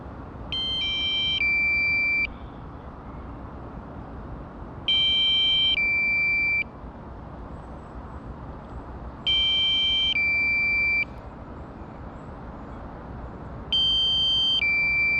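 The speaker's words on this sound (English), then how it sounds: "so we got our low battery warning there" A DJI Mavic Mini drone's low battery warning, in four evenly spaced bursts of rapid high electronic beeps over a constant windy outdoor hiss.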